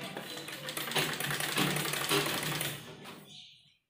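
A sewing machine stitches pleats on a small umbrella-style baby frock, its fast steady whirring running close and continuous for about three seconds before stopping and fading out.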